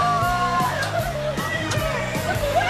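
Riders screaming on the 360, an extreme swing ride on a spinning wheel at an adventure park in Huasao, Cusco, with several overlapping voices yelling and shrieking in bursts nearby.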